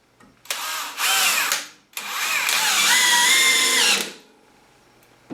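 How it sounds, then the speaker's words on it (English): A DeWalt DCD995 brushless hammer drill in high-power mode sinks 3-inch coated deck screws into a 2x10 board. Two close, loud whirring runs rise in pitch as each screw seats, the second much longer, with a brief pause between them. "here's some 3-inch coated deck screws, and we're going to sink them in this 2x10"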